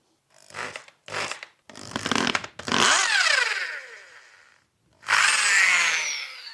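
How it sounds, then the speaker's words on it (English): Power drill boring into a stripped cylinder head for a Helicoil thread repair: two short spins, then a long grinding run that winds down, and another loud burst after a brief pause, close up with no talking. "And off, here we go with the drilling."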